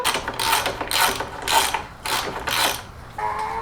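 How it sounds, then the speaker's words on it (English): A breaker bar ratchet with a size 22 socket works on a Honda CRF450 dirt bike engine, giving about six close, rhythmic clicking strokes in steady succession. "Okay, breaker bar. This is a size 22 socket."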